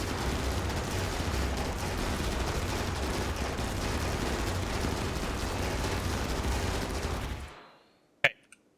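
Sustained gunfire from units shooting in a video game, a dense continuous barrage of rapid shots that cuts off abruptly near the end, followed by a single sharp report.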